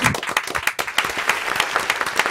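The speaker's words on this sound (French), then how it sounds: "Applaudissez ouais le public" A studio audience at a rap show claps and cheers, a lively burst of many quick hand claps packed close together and fairly loud, with no talking on top.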